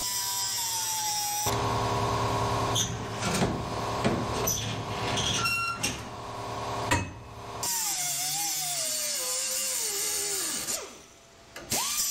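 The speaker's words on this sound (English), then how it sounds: "let me cut the front of this cage out real quick" Power tool cutting through the front section of a steel roll cage in a Chevy Nova, with loud sustained grinding and whining in bursts, pausing briefly near the middle before a wavering cut resumes.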